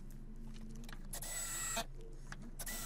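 A powered driver turns security screws into a wooden gate using a security bit, making a close whirring motor burst with brief higher-pitched spins and mechanical handling noise around it.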